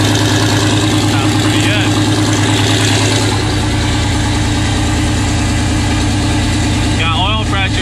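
A Corvette engine with added power runs and idles loudly up close, a steady heavy rumble throughout, with someone speaking briefly near the end.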